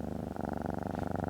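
A rescued kitten purrs close up with a soft, even, rhythmic rumble that runs steadily and alone, with no talking.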